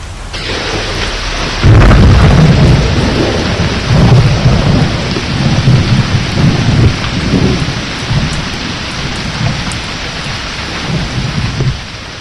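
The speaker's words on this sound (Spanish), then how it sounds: "Si sigue lloviendo así, algo puede pasar." Heavy rain pours steadily in Seville while thunder rumbles loudly and repeatedly through a storm, the downpour swelling suddenly after a couple of seconds and staying dense throughout, with no voices.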